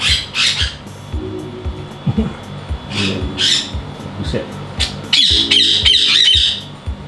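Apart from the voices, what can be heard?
hooked-bill parrot squawking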